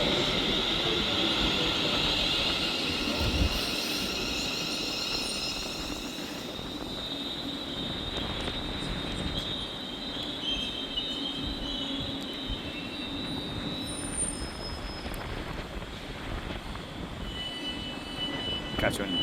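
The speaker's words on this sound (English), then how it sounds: "arriving in now is going to be the final train in this video, the 1700 London Northwestern Railway service to Crewe" London Northwestern Railway four-coach train arriving at Stoke-on-Trent station, a soft steady rumble with a faint high whine and brake squeal, heard from the platform at moderate distance.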